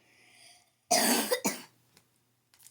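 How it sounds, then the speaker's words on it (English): One person coughs a couple of times, sharp and close, followed by a faint throat noise and quiet. "you might hear me coughing some. Like right now."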